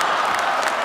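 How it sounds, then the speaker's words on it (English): A comedy-show audience breaks into steady applause, a dense wash of clapping hands with a few cheers, filling the room at a constant level without pause. "I wasn't sure whether that was you applauding"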